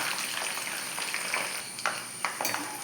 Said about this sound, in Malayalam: മുക്കാൽ കപ്പ് തേങ്ങ ചെറുതായിട്ട് കൊത്തി വെച്ചിട്ടുണ്ട് അതൊന്ന് വറുത്തെടുക്കാം